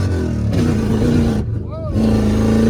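A Dodge Dakota pickup with a HEMI engine revs hard and close with a deep, steady roar. It briefly dips around a shift or lift midway, then surges back, while voices seem to sit faintly underneath.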